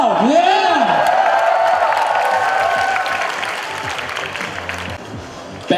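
Crowd screaming, cheering and clapping at a popping dance battle final in Taiwan, loud and sustained with high whoops and shrieks over dense applause, gradually tapering toward the end while an amplified voice rings over it early on.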